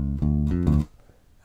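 A bass guitar plays a short lick over a G dominant seventh chord, a few clear, close plucked notes in quick succession before fading, with another note starting at the end.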